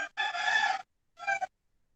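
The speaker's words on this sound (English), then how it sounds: "That rooster in the background is a little delayed." A rooster crows from the background, one long call followed by a shorter second call, clear and moderately loud with no talk over it.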